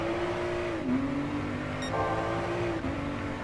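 A modern Ford GT race car in Gran Turismo Sport drones close by with a steady, high engine note. The pitch dips briefly during a shift, then holds as another car runs alongside.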